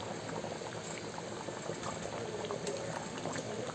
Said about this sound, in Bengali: রসাটা ফুটে গেছে,